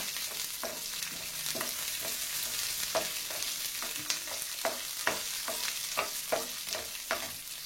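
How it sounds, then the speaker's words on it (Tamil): Radish, garlic and small shallots sautéing in a pan for radish chutney, a soft sizzle broken by regular scraping taps of a spatula stirring the mixture, close by and without speech. "வதக்கின பிறகு ஒரு 6-7 சின்ன வெங்காயம் அதையும் போட்டு இதில் நல்லா வதக்கணும்."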